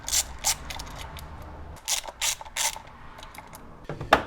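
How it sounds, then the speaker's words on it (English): A ratchet spanner clicks in quick bursts while loosening two nuts at the base of a T-lock handle on a vehicle canopy, close and crisp with short pauses between runs. "firstly, we'll take off these 2 nuts down from the base here"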